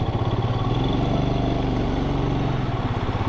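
A motorcycle engine runs with a steady, close, rhythmic low throb during a ride on the road from Bomdila to Guwahati, loud and constant throughout.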